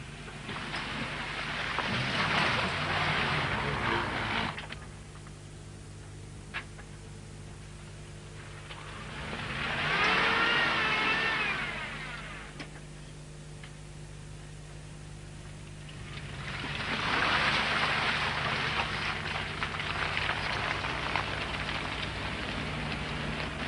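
Land Rover on 205x16 tyres driving off-road down into mud, heard as three swelling passes of engine and splashing or churning noise around the start, middle and end, with quieter steady rumble between.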